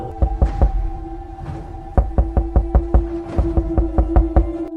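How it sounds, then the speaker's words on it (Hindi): Repeated knocks on a cabin door late at night, sharp and close, arriving in two groups: a few irregular raps, then a steadier run of evenly spaced knocks over a low sustained tone. "कैबिन के दरवाजे पर नॉक हुआ।"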